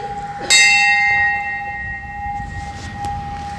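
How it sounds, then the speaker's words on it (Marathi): A single loud bell strike rings out and hums with a long, sustained ringing tone that slowly fades, heard clearly and close. "घंटा"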